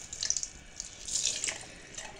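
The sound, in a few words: wetting sponges with warm water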